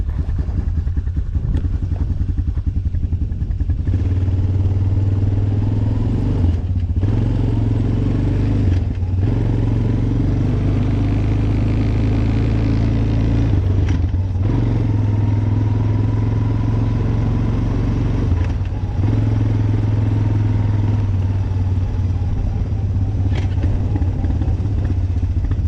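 Riding lawn mower engine running continuously at close range, a loud steady drone with slight shifts in pitch and occasional knocks and clunks as gears are changed.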